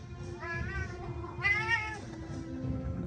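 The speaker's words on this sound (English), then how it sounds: "That's my cat, who is saying it needs some more soft food" A pet cat meows twice for soft food, two drawn-out wavering calls close by over a low steady room hum.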